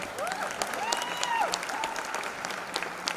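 Theatre audience at a play premiere at NCPA Mumbai, applause of moderate density heard somewhat faint, with occasional whistles and a few crowd voices mixed in.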